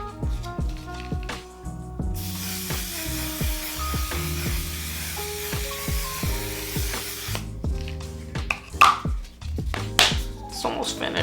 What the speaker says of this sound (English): I am going to finish it off with the Onesize Until Dawn mattifying setting spray